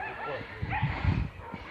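Several dogs bark, yip and whimper outdoors in deep snow during a snowstorm, with short bursts clustered in the middle. A voice can be heard faintly in the background.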